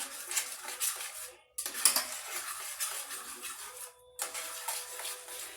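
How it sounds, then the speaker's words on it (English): Eggs being whisked in a bowl for Denver-style scrambled eggs, a steady run of quick metal-on-bowl clatters and scrapes in bursts, with two brief pauses, fairly close and alone. "the whisking or the mixing action here kind of almost souffles it"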